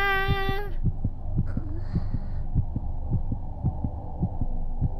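A heartbeat sound effect in the horror video game Corpse Party Blood Drive, steady low thumps over a droning hum, opening with a brief melodic tone before the pulse settles into a regular rhythm.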